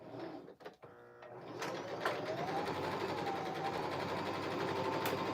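A sewing machine stitches small appliqué pieces for a quilt top, running in a steady continuous hum after a few brief handling noises at the start, close and fairly quiet.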